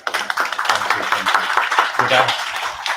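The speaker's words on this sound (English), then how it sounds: "give him a round of applause please" Audience applause at a panel discussion on faith and social cohesion, a dense run of claps that continues steadily for about three seconds, close and loud, with voices underneath.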